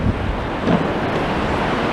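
Strong wind buffets the microphone in a steady, dense roar with gusty rumbles, close and loud, no voices, on the Blackpool seafront promenade at high tide.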